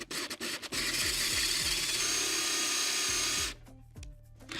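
A power drill fitted with a hole saw bores into a wood round, opening with a few short bursts, then a loud sustained grinding cut of about three seconds before winding down into quieter sputters.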